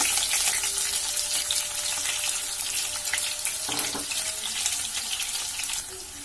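Chopped onions frying in a pan for a spiced beef bhuna, a constant loud hiss and sizzle with faint clinks, tapering slightly at the end.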